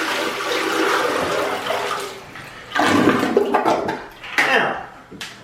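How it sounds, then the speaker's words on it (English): A toilet flushes after a bucket of water is dumped into the bowl: a loud, steady rush of water for about two seconds, then a surging gurgle and a few splashy drain bursts as the bowl empties. "Now, you heard how well that flushed."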